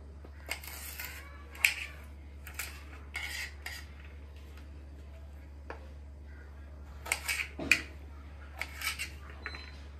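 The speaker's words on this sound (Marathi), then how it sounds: "अशा पद्धतीने सगळी भेंडी आपल्याला चिरून घ्यायची आता।" A knife slices okra thinly on a cutting board, giving a series of short, crisp chopping taps in irregular bursts, close and fairly quiet, with no talk.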